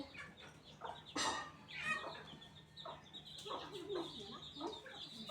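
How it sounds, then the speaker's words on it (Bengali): Young chicks that have wandered indoors to feed give a series of soft clucks and chirps, scattered and close, against a quiet room with a faint steady hum. "মুরগি বাচ্চা খাবার খাওয়ার জন্য ঘরে ঢুকে পড়েছে"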